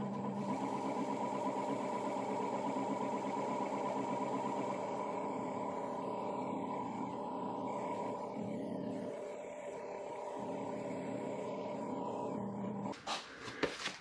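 A wood lathe turns a natural edge bowl of spruce, pine or fir at 500 RPM, giving a steady, close mechanical hum and whir that runs throughout, with a few brief knocks near the end.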